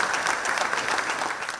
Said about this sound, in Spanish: Pueden aplaudir Juan de Ábalos Taborda.